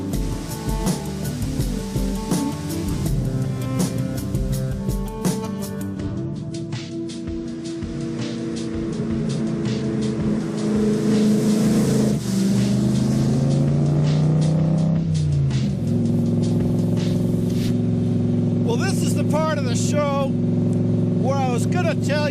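A classic Cobra sports car drives a mountain road near Mount Rainier in Washington State, its engine droning and rising through gear changes under constant narration, with squealing, warbling sounds near the end.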